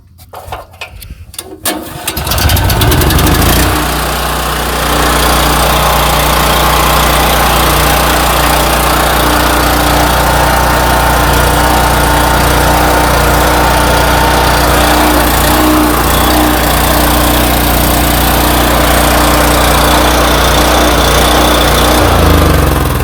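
Small engine at an outdoor auction cranking with choke on, catching after a few seconds and then idling loudly and steadily for the rest of the clip.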